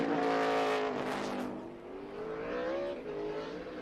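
A NASCAR stock car at the 2017 Toyota/Save Mart 350 qualifying at Sonoma brakes into a corner and accelerates out. The loud engine note drops as it slows, then climbs again as it powers through.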